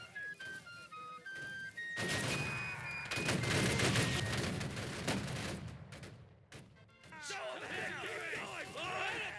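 Musket volleys crackle and pop in a Battle Cry of Freedom multiplayer battle, rolling gunfire layered over shouting voices, game music and battlefield noise, dense and continuous for several seconds.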